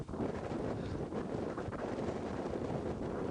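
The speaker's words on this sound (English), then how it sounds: "if the wind doesn't sound too windy here" Wind blows across an outdoor microphone during a hike near rocks, a constant rough rumbling roar with no talk, moderately quiet and unbroken.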